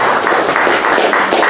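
An audience at a volunteer meeting claps, a loud dense burst of applause filling a short stretch with steady, even intensity throughout.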